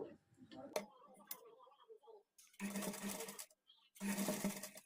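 A sewing machine stitches a green and gold lace onto a blouse edge, running in two loud bursts of steady whirring after a stretch of softer handling noises, with a voice speaking between them.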